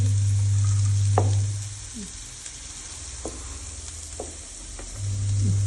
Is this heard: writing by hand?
no